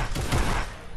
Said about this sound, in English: Oh, someone just sniped him.